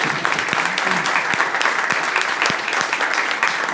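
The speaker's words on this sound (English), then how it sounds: "If we can have a big round of applause for Joey, please." An audience gives a guest speaker a warm round of applause at an evening talk, continuous many-handed clapping, close and even throughout the short stretch.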